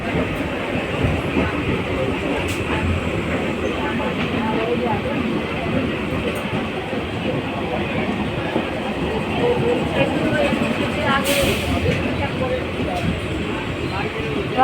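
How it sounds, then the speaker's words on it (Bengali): A train pulls into Garia station at night with a loud, continuous rumble and rattle of wheels and carriages, steady throughout, while people talk nearby. "গড়িয়া স্টেশনে ট্রেন ঢুকে গেছে"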